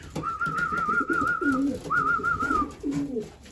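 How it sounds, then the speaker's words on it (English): Young racing pigeons coo nearby in two drawn-out, warbling phrases, each followed by softer, lower throaty coos, fairly loud and close with no talking. "Come on down, Pigeons."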